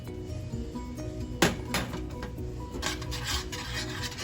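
A spoon scrapes and rubs steadily through a thick creamy spinach sauce as flour is mixed in, with soft repeated strokes and a brief knock against the pan.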